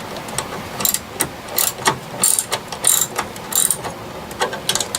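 A socket wrench ratchets in repeated quick bursts of close, loud metallic clicking during a rebuild of Xenophobe arcade joysticks, with short pauses between the strokes.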